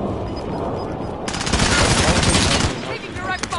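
Rapid automatic gunfire in a video game bursts in loud and close, a dense rattling volley that fades out into scattered reports, with a voice speaking over it.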